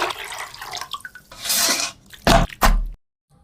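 Raw chicken is rinsed under running water, splashing and trickling close by, with a few sharp pours and drips before the flow stops into silence.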